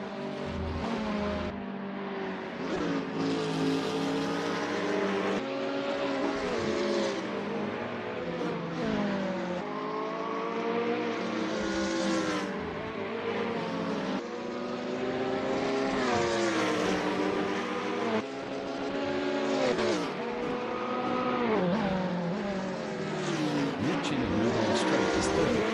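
Several GT3 race cars in a Lime Rock event in a racing game, including a BMW Z4, howl continuously at high revs, engines rising and falling through gear changes as the pack runs close together, loud and unbroken for the whole stretch.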